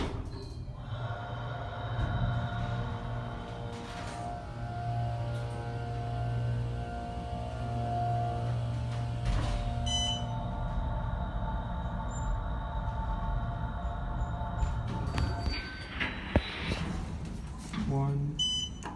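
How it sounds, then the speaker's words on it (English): An Otis hydraulic elevator motor runs in an office building at Pond View Professional Park, giving a steady droning hum for most of the stretch, ending with clunks and a sharp knock. "go back to 2 and listen to the motor again"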